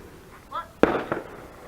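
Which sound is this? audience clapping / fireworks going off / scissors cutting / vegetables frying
fireworks going off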